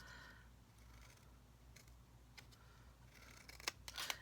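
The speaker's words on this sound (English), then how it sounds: "I'm just going to use my scissors." Scissors cutting paper for a handmade Christmas tag, heard up close in a quiet room as a few crisp snips that cluster toward the end.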